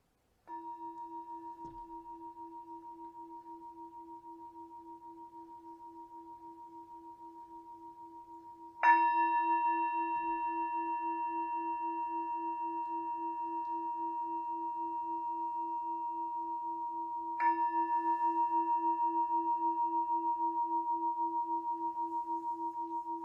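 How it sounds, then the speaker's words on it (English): A singing bowl is struck three times to close a meditation, each strike sending out a clear, sustained ringing tone that overlaps the last and hangs steadily in a quiet room with no talking. "the singing bowl will slowly take you out of meditation"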